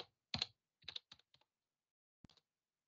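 Faint, sparse keystrokes on a computer keyboard, a few short clusters of clicks separated by quiet gaps.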